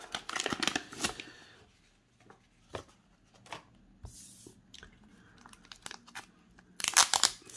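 A protected letter envelope sealed with double-sided tape is pried and torn open, giving soft crinkles and sharp ripping bursts at the start and end, with quieter paper rustling between, close and alone.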